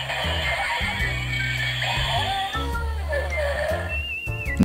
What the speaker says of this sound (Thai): นี่เสียงคำรามก็จะไม่เหมือนกันนะฮะ